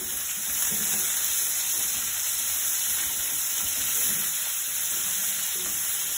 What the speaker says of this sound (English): Then I'm gonna add the onion. And kind of saute it a bit.